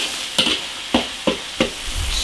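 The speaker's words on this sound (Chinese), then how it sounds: "划散，然后把它水分炒干，再放调料。" Beef shreds are stir-fried and broken apart in an iron wok over a steady sizzle, with four sharp scraping clacks of the spatula spaced roughly a third of a second apart.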